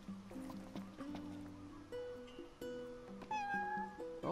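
An in-game cat meows in Final Fantasy XV during a side quest to feed it, several short mews sounding over steady game music and ambience.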